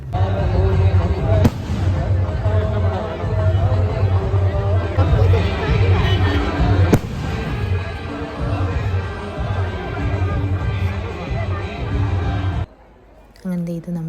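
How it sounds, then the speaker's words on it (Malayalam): Fireworks crackle and burst over a loud, steady crowd hubbub at a Thaipooyam temple festival in Kerala, with two sharp bangs standing out, then the noise drops suddenly at the end. "ഇതിപ്പോൾ താഴെ എല്ലാം കുഞ്ഞു കുഞ്ഞു പടക്കങ്ങൾ നല്ല മേളിൽ ചെന്ന് പൊട്ടുന്നതുണ്ട്"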